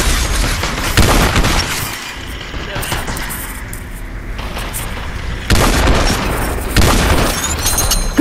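Several grenades go off in the Population One VR shooter, each one a dull boom. The blasts recur across the clip amid game noise and excited talk from players.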